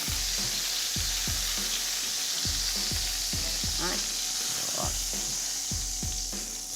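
Beef onglet sears in a hot pan with a steady, loud sizzle, broken by repeated low knocks of the pan or utensil and a few brief scrapes.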